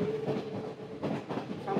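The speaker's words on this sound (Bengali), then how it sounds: "ট্রেন চলতে শুরু করলো" A train runs through the misty hill country of Sri Lanka between Nuwara Eliya and Ella, its carriages rumbling with a rhythmic clatter of wheels on track at moderate volume.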